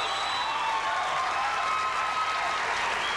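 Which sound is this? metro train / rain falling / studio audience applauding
studio audience applauding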